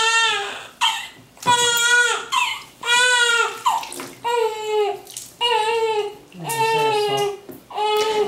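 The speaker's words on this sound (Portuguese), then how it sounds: "Seu primeiro banho," A newborn son cries in repeated loud wails during his first bath, close up, while water sloshes softly underneath between the sobs.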